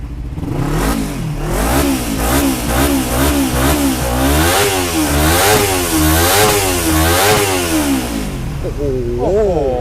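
A Kawasaki motorcycle in KRT racing livery runs loud and close, its engine revving repeatedly in smooth rising and falling sweeps over a steady throbbing idle, with a final sharper blip at the end.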